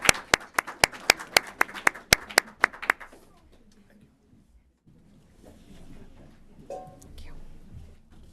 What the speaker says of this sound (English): please give these candidates a round of applause